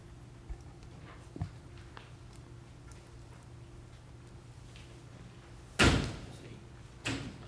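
A door swings shut with a single loud, close slam during a county board of equalization meeting, followed by a softer thud from the same door; faint room murmur and a quiet voice come earlier.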